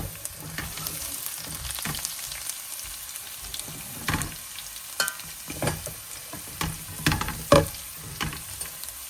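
Mustard seeds, cumin, garlic and asafoetida fry in hot oil for a Gujarati besan curry, a constant crackling sizzle punctuated by sharper pops and spoon scrapes against the pan, with no talking.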